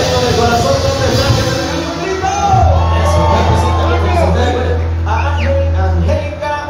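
Audience at a live concert in a restaurant cheers, whoops and shouts, a loud crowd roar with hubbub and music underneath, voices mixed throughout.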